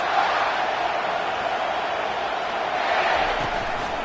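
A virtual stadium crowd cheering in the NCAA 25 football video game, a continuous broad roar that holds at an even level throughout.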